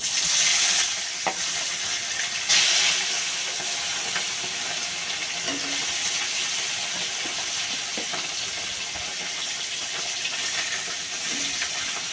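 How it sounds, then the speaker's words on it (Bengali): Fish fries in fully heated oil in a home kitchen, giving a steady, close sizzle and crackle with a few sharper spits and pops; no voices. "তেল গরম হয়ে গেছে পুরো। এবার মাছটা দিয়ে দিচ্ছি।"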